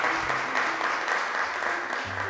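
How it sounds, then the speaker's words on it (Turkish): Studio audience applauds quiz contestants on a Turkish quiz show after a correct answer wins their team ten points, a steady, full wash of clapping that holds evenly for a couple of seconds. "Beşinci soruda alkışlıyoruz arkadaşlarımızı"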